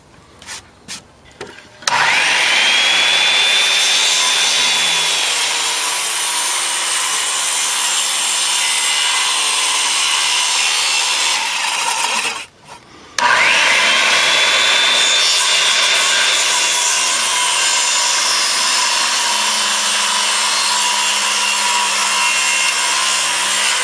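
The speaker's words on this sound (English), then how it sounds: "You'll notice that I come just to the line with the skill saw." A circular skill saw cuts a wooden stair stringer to the layout line, with two long continuous cutting passes separated by a brief pause, loud and close, after a few short starts at the beginning.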